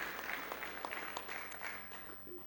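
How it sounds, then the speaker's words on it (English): Faint applause from members of an audience at a leadership speaker series event, a soft, steady patter of scattered clapping heard from a distance under a low room hum. "So give yourself a round of applause."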